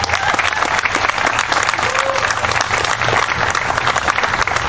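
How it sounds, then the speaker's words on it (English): Sustained applause from a crowd at a Juneteenth celebration in Keene, steady clapping filling the whole stretch with no pauses. "let's give the Racial Justice and Community Safety Committee an applause too"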